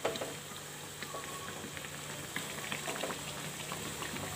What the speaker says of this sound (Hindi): और दूसरी तरफ से भी हम क्रिस्पी होने तक इन्हें हम फ्राई कर लेंगे।